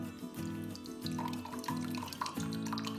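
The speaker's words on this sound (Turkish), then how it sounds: "ben elma sirkesi koyuyorum" Apple cider vinegar is poured into a 200 ml glass already holding rock salt, a steady liquid stream running continuously with bubbling gurgles, close and fairly loud, and no talking.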